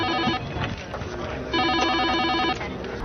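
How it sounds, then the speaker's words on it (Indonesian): A telephone rings repeatedly in a 911 emergency operator's office, its warbling electronic bursts coming in two clear spells, fairly loud over low room noise. "bunyi telepon yang terus saja berbunyi"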